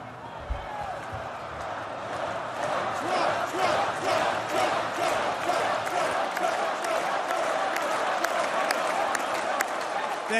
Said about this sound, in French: Merci pour ces applaudissements.